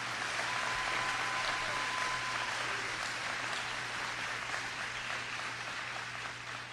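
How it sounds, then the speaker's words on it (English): An audience at a Florida governor's press event applauds in a continuous, fairly distant wash of clapping that holds steady and fades slightly toward the end, with a low hum underneath. "Let's give a round of applause for these two right here."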